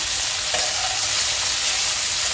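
Potato and pointed gourd fry in a pan with a dense, continuous sizzle and occasional stirring scrapes. The sound is close and steady throughout, with no talking.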